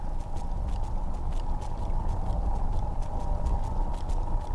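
Horse hooves clip-clopping in the video game Skyrim, a quick, steady rhythm of close hoofbeats over a low rumbling game ambience, with no talking.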